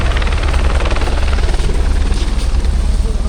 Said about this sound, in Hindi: ये आ चुका है हेलीपैड, और मौसम ठीक हो गया है अब तो हेलीकॉप्टर्स भी आना चालू हो गए हैं।